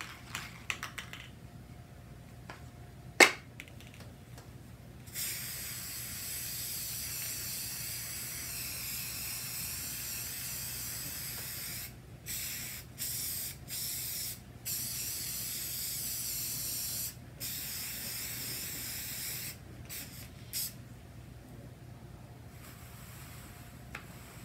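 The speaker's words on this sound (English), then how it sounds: "now we are ready to put our first coat of the purple paint" A spray can lays purple paint on Jeep exterior parts in long, steady hissing passes of several seconds each, broken by short pauses and quick bursts, close and fairly loud, with a sharp click near the start.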